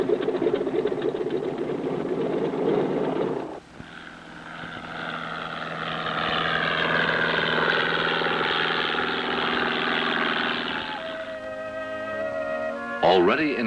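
Aircraft engine drone from a plane flying low over a ranch while dropping sacks of grain from a cockpit bin, a steady propeller hum with pitch shifting as it passes, loud and continuous.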